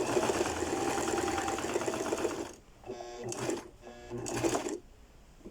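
A sewing machine runs a backstitch seam on a bodice, first a steady fast whirring stitch, then two shorter bursts of stitching separated by pauses as the fabric is repositioned.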